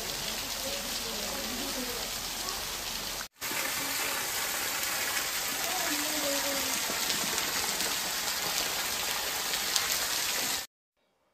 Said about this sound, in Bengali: গুহা থেকে বেরিয়ে আমরা দেখে নেব ছোট্ট এই ঝর্ণাটি, নাম লেয়াই।